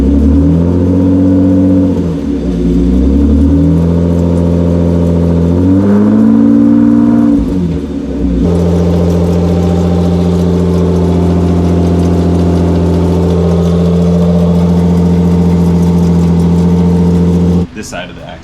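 A BMW E36 engine runs with one wheel removed, a steady harmonic drone with pitch rising and falling as the axle turns, near and loud, under people talking.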